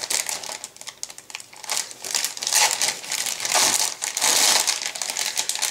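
Plastic bags holding model kit sprues being handled up close, giving loud, irregular crinkling and rustling bursts with no talk.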